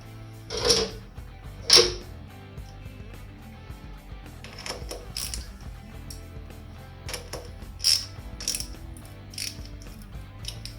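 A nut tightened onto a motorbike part gives a few sharp metallic clicks and clanks, spaced irregularly and close by, over a faint low hum with no talking.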